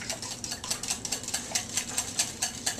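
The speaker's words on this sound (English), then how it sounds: "But as I stir, I'm aerating it even more." Homemade body butter with vanilla being whipped in a bowl, a steady run of quick light scraping and clicking strokes at an even rhythm, close and fairly quiet, with no voices.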